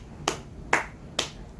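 Three sharp hand claps, evenly spaced and fairly close, from a single person following a simple classroom-style instruction game, with no talking.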